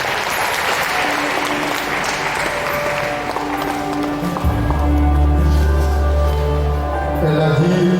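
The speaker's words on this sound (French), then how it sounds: "que je vous demande d'applaudir s'il vous plaît" Audience applause at an Octobre Rose event at the Centre d'action culturelle d'Abobo, a dense sustained burst of many hands clapping throughout, loud and close, with a low hum entering midway.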